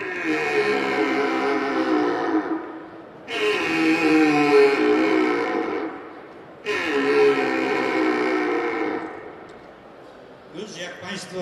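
A man imitates an older red deer stag of six to seven years with a deer call, giving three long, deep, coarse roars in two tones, separated by short gaps, with faint noise at the end.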